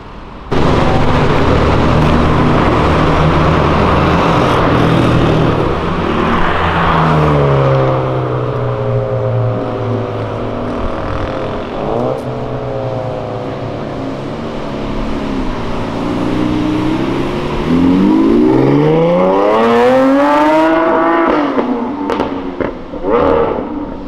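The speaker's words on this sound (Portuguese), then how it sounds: "vocês viram a SVJ acelerando?" A Lamborghini Aventador SVJ accelerates hard on a city avenue, its engine revving loudly with rising and falling pitch sweeps and a roaring climb near the end, up close and alone.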